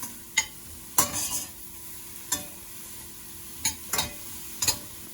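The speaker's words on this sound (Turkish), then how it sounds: "Aynı et kavrur gibi mantarlar suyunu verip daha sonra çekene kadar tereyağıyla güzelce mantarlarımızı kavuruyoruz." Mushrooms sauté in butter with a soft low sizzle, broken by a handful of sharp utensil stirs and clacks against the pan at irregular intervals.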